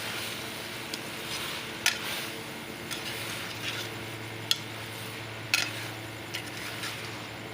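Okra stirred with spices in a pan gives a steady soft scraping and sizzling, with a few sharp clinks of the spoon against the pan, close up and with no talking.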